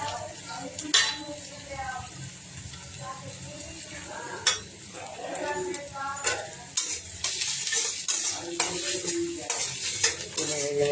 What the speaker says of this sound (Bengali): এরপর আমরা দেবো আদা রসুনটা